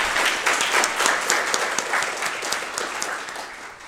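Audience applause closing a conference keynote, a dense wash of many hands clapping steadily for a few seconds.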